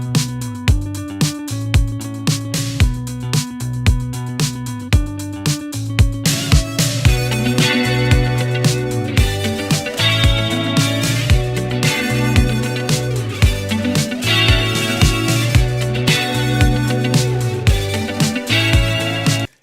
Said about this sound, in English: So this is what this whole beat sounded like before I reamped all the guitars and bass.